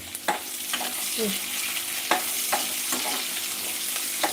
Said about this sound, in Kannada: ಚಟ್ಪಟ್ ಚಟ್ಪಟ್ ಅಂತಿತ್ತಲ್ಲ ಆನಿಯನ್ ಚಟ್ಪಟ್